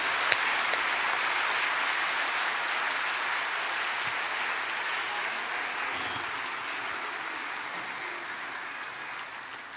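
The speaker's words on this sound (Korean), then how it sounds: "우리 이 귀한 생명을 주신 하나님께 감사하고 축하하며 박수했습니다" Church congregation applauding during a Sunday worship service, steady sustained clapping from a large crowd throughout, fairly distant and even, with no talk over it.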